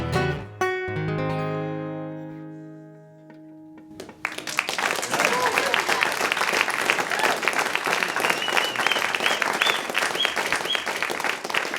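Studio audience at a Summit FM Studio C session applauds the performers: a band's final notes ring out, then steady, dense clapping and crowd noise swell and carry on alone for several seconds.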